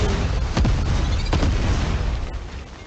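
A grenade explodes in the video game Fortnite, a loud booming burst with a couple of sharp pops that fills the short moment and fades slightly at the end.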